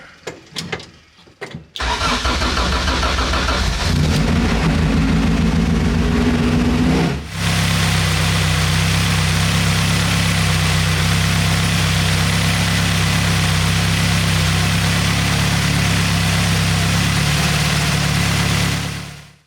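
A high-compression LSVTEC swapped engine cranks briefly, catches and fires up, then settles into a steady, loud, close idle with a low rumbling drone throughout.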